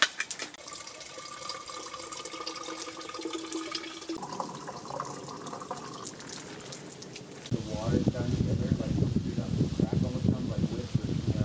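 Running spring water splashes steadily in Coyote Gulch, Utah, growing louder and fuller toward the end, with faint voices in the background early on.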